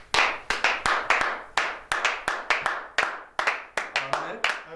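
A church congregation claps in praise to acclaim Jesus, a fairly close, uneven run of sharp claps at a brisk rhythm, about a dozen bursts with faint voices underneath.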